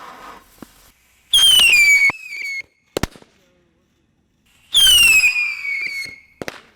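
Two bottle rockets fired one after another, each a loud, rising shrill whistle as it launches, followed by sharp pops. Both are close and loud, with quiet gaps between them.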